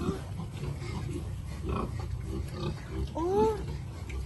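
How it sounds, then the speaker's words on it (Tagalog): A large male pig, sized up as a possible lechon pig, gives several low grunts and rough snorts close by, ending in a louder squealing grunt, while people talk over it. "Ano, lalaki ng baboy."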